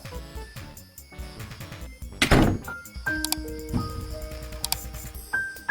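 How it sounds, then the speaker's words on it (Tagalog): A door is pushed shut with a single solid thunk partway through, set against a busy indoor background with scattered clatter and tonal hums. "Isara mo ang pinto."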